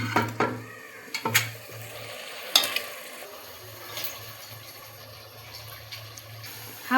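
Tomato and leftover vegetable masala sautéing together in a pan, a soft sizzle broken by several sharp spatula clanks and scrapes against the metal, with a low hum running underneath and no talking.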